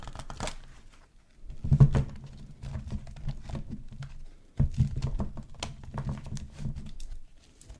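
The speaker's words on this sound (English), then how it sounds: "I'll give another shuffle here." Cards are shuffled in two quick riffling bursts, a soft papery flutter close by with brief pauses between.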